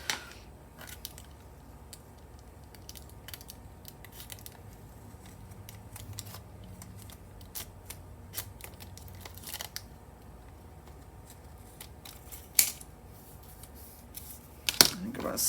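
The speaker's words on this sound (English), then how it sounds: "I think I'm going to switch scissors here. That's a little tough to cut with those." Scissors snip through fabric scraps in quiet, irregular cuts during a needle keeper sewing project, with a few sharper snips near the end and speech now and then.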